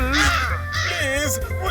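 A crow caws a few times over a dramatic scene with background music and a voice, the harsh calls rising and falling.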